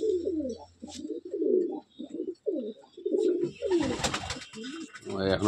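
Madrasi and Giribaz pigeons in a loft give repeated soft, low rolling coos in a steady series, fairly close, before a burst of flapping or rustling noise near the end; a voice speaks briefly among the calls.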